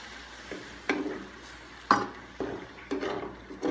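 A spoon stirs pork pata papaitan in a pot: several distinct scraping, knocking strokes arrive every second or so over a low background simmer, close and moderately loud.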